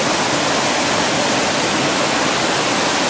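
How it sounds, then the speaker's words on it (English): Steady, loud broadband roar of a waterfall at Rara Avis, a dense, unbroken rush of falling water filling the scene with no voices over it. "And down to their cataract or waterfall that they have."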